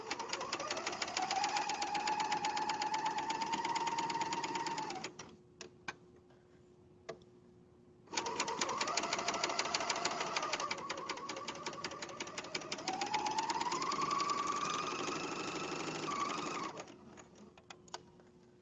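A sewing machine stitches pajama pieces together in two long, steady runs with a brief pause and a few isolated clicks between them, its whirring motor rising and falling in pitch as the speed changes.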